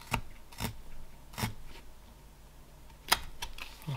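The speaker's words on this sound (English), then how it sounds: "Let's do a little stop cut down here" A knife making stop cuts in wood while carving a simple flat-plane Viking figure, several sharp, close cutting snaps spaced irregularly with quiet between them.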